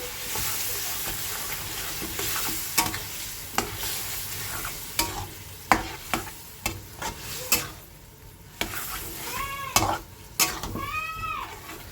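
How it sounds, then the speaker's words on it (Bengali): A spice paste of tomato, onion, garlic, ginger and chilli, with cumin, coriander paste, yogurt and turmeric, fries in a pan under repeated scraping and clanking stirs against a steady sizzle, with a few squeaky whistling sounds near the end. "এবার সবটা মিলিয়ে আমি সুন্দর করে কষিয়ে নেওয়ার পালা"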